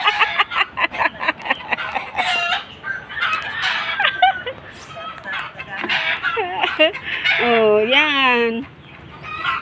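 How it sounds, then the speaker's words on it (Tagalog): Farmyard chickens cluck and squawk noisily in short bursts close by, with a rising crowing-like call near the end, mixed over people chatting outdoors. "Ang ingay ng mga manok."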